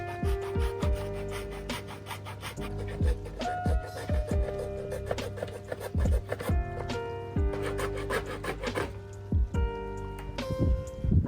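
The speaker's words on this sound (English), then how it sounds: "That might still be too high, but I'm going to do trim it, see if it fits." Panel trimming on a twin-scoop slam panel for a Mk2 Ford Focus ST, with repeated rubbing, sawing and filing strokes scraping against the plastic in a steady rhythm, close and fairly loud, broken by sharp knocks and handling clatter.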